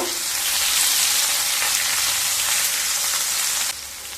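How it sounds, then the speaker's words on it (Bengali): Ginger and garlic fry in hot oil with a loud, continuous close-up sizzle that drops suddenly near the end. "আদা আর রসুন দিয়ে 30 সেকেন্ড একটু নাড়াচাড়া করে নেব।"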